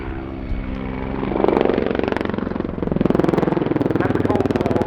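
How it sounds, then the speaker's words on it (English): A Hungarian Mil Mi-24 Hind attack helicopter thrums nearby at an airshow, its rotor beating in a fast, steady pulse that grows louder and more choppy after a moment. "This extremely rugged, extremely capable battlefield helicopter with a very, very distinctive profile to it."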